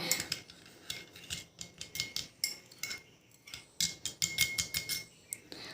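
Whisking sour yogurt with water in a bowl, rapid rhythmic scraping clinks of a utensil against the bowl in quick bursts, close and fairly quiet, with no talking.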